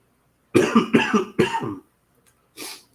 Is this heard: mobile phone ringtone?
no